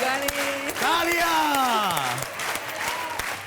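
A studio audience applauds on a Hindi TV game show, the clapping sitting beneath a loud, drawn-out voice that dominates the moment.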